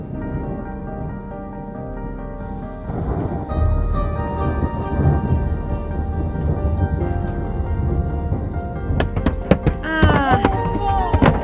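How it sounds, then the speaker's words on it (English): Steady drumming of hail on a tiny house, growing denser partway through, with sharp scattered impacts clattering near the end. "We're getting hit by hail."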